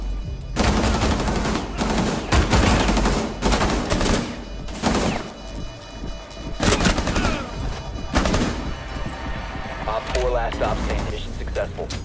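Video game gunfire crackles in repeated bursts at close range across the whole stretch, loud and dense, with spoken voices layered over it.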